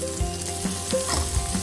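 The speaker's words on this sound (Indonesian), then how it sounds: "Masak hingga semua bahan-bahan sedikit layu." Sliced onions and beef sizzle steadily in a pan with coriander for a Malaysian fried beef dish, a continuous close frying hiss with a few soft stirring knocks and no talking.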